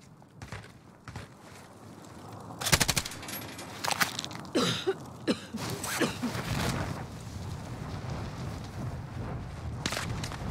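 A PKM machine gun fires in Warzone, with several sharp, loud bursts of rapid shots in the middle stretch. Scattered footsteps and gear rustling come before and after the bursts, and no voices are heard.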